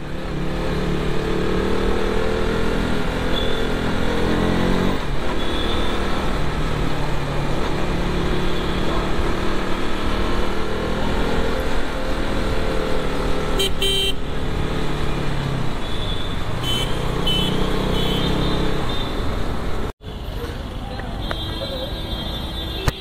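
Dense evening road traffic in Mumbai heard from a moving motorcycle, with a constant engine and wind roar, passing vehicles and scattered horn toots, and a voice talking intermittently over it.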